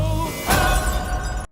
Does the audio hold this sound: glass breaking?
yes